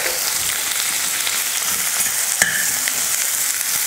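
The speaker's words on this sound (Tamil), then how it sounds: "கருவேப்பிலை, வெங்காயத்தை நல்லா வதக்கிக்கலாம்." Onions and curry leaves sauté in hot oil, giving a steady, close sizzle with a few soft stirring scrapes and one sharper clack partway through. There is no talking.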